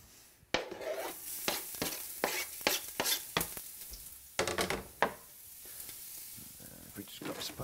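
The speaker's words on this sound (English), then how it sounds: "If we just grab a spatula, just give them a quick stir around." Onions sautéing in a dash of hot oil, stirred with a spatula: a steady sizzle broken by repeated scraping strokes of the spatula against the pan, close and fairly loud, with no talking.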